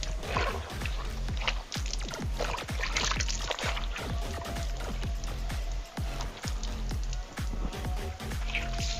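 Water splashes and patters steadily over a stainless steel footstep on a Pajero during rinsing, a close, dense stream of irregular drips and splatters with no pauses.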